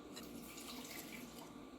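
Water from a kitchen tap runs steadily into a bowl holding ricotta, a constant close rush with no talking.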